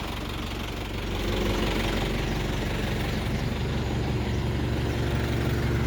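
A 2003 Isuzu NPR 130 hp diesel truck engine idles with a knocking rumble, then rises in a rev after about a second and holds a louder, steady throb, close up.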